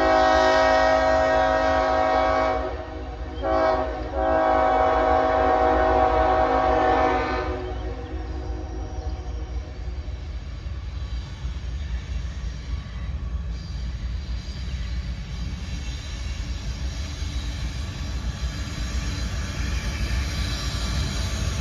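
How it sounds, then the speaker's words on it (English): A CSX coal train rolls past with a loud, sustained horn blast for the first several seconds, then a steady rumble of wheels and cars continues close by for the rest of the pass. "Coal train."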